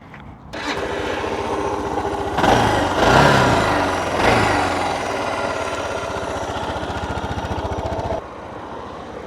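A Suzuki DR650 single-cylinder motorcycle cranks and fires up, revs briefly a couple of times, then settles into a steady thumping idle close by before dropping lower at the end.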